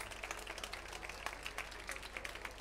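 An audience at a live concert applauds a performer, a short burst of dense, fairly faint clapping that stays even throughout.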